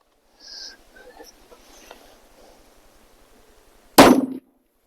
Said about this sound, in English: Frangible round versus a steel plate.